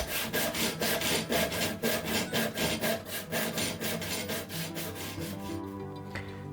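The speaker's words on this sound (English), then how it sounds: "I'm now using a saw that we rehandled in a previous video." A rehandled crosscut hand saw, slightly in need of sharpening, cuts wood for a small box with close, rapid, rhythmic rasping strokes that continue steadily before easing off, no talking.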